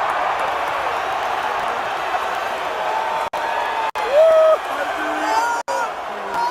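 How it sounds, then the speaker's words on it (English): A stadium crowd roars and cheers as a president walks out from the tunnel at a game, a loud sustained wall of voices with a few brief breaks and whistles rising above. "Crowd erupting."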